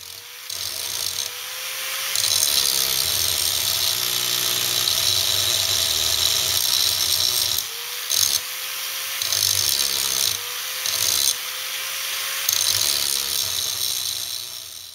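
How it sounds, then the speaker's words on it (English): A power grinder cuts through part of a Lister D engine crankshaft, a steady harsh rasping whine that dips briefly several times as the tool lifts and bites again, close and alone. "we can grind through it most of the way and then split it with a cold chisel"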